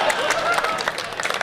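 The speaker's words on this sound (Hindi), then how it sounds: "तो अगर कृपा चाहिए तो एक बार मिलकर ताली बजाओ" An audience at a comedy show claps together in a dense, steady burst of applause, with crowd noise filling the short stretch.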